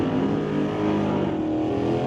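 A loud, steady roar of powerful engines at full throttle, dense and continuous with no pauses, as Super Pro drag race cars launch hard.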